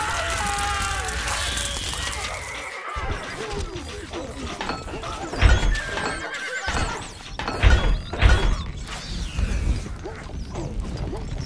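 Horses neigh and whinny with galloping hoofbeats amid clashing battle sounds and game voice lines in the medieval strategy game Stronghold Crusader, a busy, dense mix that stays loud throughout.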